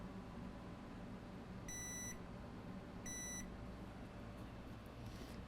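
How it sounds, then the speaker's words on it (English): A multimeter in continuity mode gives two short electronic beeps, about a second apart, against steady background hum, while a short is being traced on an iPad Pro 12.9 board near the screen connector. "I have the meter in continuity mode."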